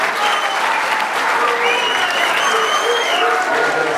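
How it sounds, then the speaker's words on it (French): Loud, dense applause from a crowd at a New Year's greetings event, continuous and close, with excited voices and a few shouts rising through the clapping. "Bravo, Joris, on peut l'applaudir."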